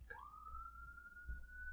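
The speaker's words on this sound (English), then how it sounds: "I hear cops, ambulances." A faint, distant siren from police cars or ambulances outside rises in pitch and then holds a steady wailing tone.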